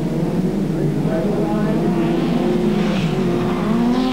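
1980s race cars roar past on a circuit, engines revving and droning loudly at close range in a continuous wave while a commentator talks over the racing.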